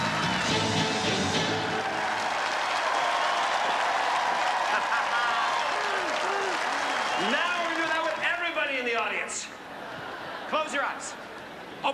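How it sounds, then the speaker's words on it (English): A magic show audience gives a big round of applause that fills the room, dense and sustained, then thins out. Near the end a voice and some whistling or cheering rise over the fading claps. "And give them both a big round of applause."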